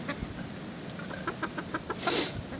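Chickens cluck in short, scattered bursts close by outside a coop in cold weather, with a louder squawk near the end over a low, noisy background.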